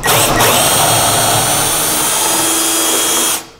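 A power drill bores a pocket hole through a Kreg K4 jig, a loud continuous whine that runs steadily for over three seconds before winding down and stopping.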